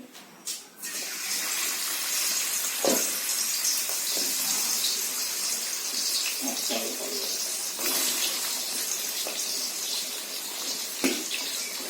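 Large catla fish heads, coated in spices, fry in a pan with a steady, dense sizzle and crackle that runs throughout, broken by a few brief clatters, with no talking.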